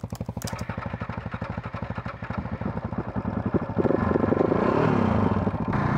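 A KTM 690 Enduro R single-cylinder dual-sport motorcycle engine runs close by with a steady pulsing beat that rises in revs toward the end, with a brief clatter at the start.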